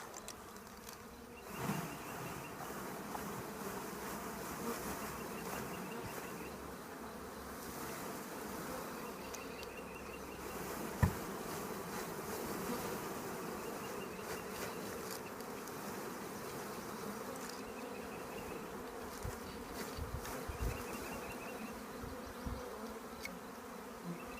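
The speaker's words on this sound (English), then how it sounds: "there's a whole bunch of bees in there" A steady, dense buzzing of many bees being installed into a hive fills the whole stretch, continuous and close, with a few faint knocks and rustles along the way.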